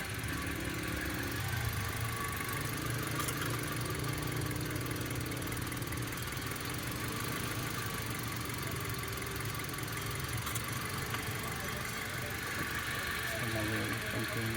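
A secondhand car's engine idles steadily at close range during an inspection, a low continuous rumble with a faint rattle, while a voice talks over it in Filipino.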